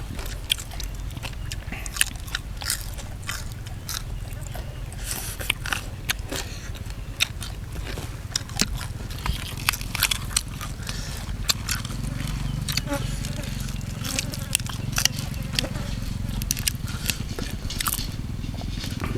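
Crispy grilled pork intestines eaten with pounded long bean salad give dense, close, repeated crunchy bites and chewing crackles throughout, heard under ongoing talking.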